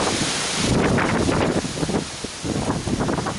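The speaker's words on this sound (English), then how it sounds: "super windy. Almost blew my dad off this." Strong wind on the Appalachian Trail in Shenandoah National Park roars and buffets the microphone steadily, with gusty surges of broadband rumble and hiss throughout, no voices.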